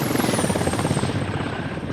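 A helicopter in a multiplayer video game gives off a steady rotor drone with a fast pulsing chop, loud and continuous across the moment.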